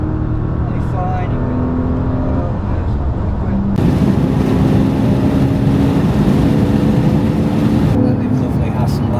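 An old Porsche Boxster is driven on the Nürburgring, its engine droning loud and steady from inside the car, jumping in intensity partway through as it pulls harder, with voices talking over it.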